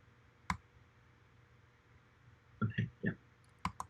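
A few sharp, separate key presses on a computer keyboard, one early and a small cluster of taps later, close and crisp against a quiet background.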